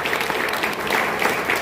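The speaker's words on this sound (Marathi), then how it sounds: "आपण सर्वजण जरा जोरदार टाळ्या वाजवून प्रशासनाचं अभिनंदन करू." A crowd at a public government outreach meeting applauds loudly, a thick, continuous burst of many hands clapping at once that holds steady for the whole moment without any speech.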